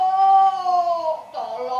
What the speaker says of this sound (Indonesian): Kucing liar.